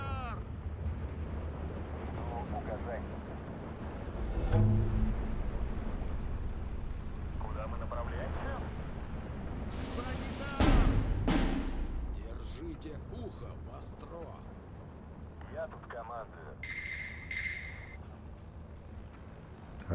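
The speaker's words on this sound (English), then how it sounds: "Our strafing run's helping on that side, that's great." An aircraft strafing run in the WW2 real-time strategy game Steel Division 2: a low roar of engines and gunfire under continuous battle noise, with a sharp burst near the middle and someone talking throughout.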